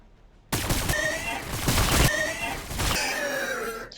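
Sustained in-game gunfire from a Necron unit in Warhammer 40,000: Battlesector, loud dense bursts of shots crackling almost continuously with a brief break near the end, starting abruptly after a quiet moment.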